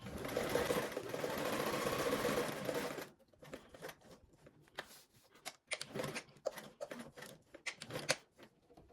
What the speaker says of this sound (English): I'm going to go ahead and sew up the middle of this to make that divider pocket.